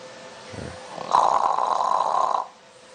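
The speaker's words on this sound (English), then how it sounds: "Snoring." A dog snores in one long, loud, raspy breath that follows a brief low snort, heard up close against a quiet radio-studio background.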